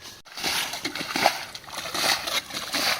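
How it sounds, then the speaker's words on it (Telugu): Water scooped with a plate and thrown out of a small village canal to catch fish: close, repeated splashes and sloshes in an uneven rhythm that carries on throughout. "ఇప్పుడైతే ఇటలు అయితే మేము నీళ్ళు జల్లి అయితే చేపలు అయితే పట్టబోతున్నాము"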